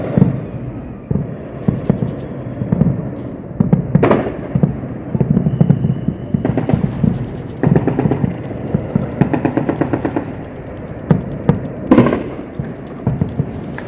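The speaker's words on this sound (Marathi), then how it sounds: "पंजाबमधून तरण तारणमध्ये स्फोटांचे आवाज येत आहेत." Explosions echo over the area around Tarn Taran in Punjab: repeated loud, irregular booms and cracking bursts come in clusters over a continuous rumbling background, with no speech.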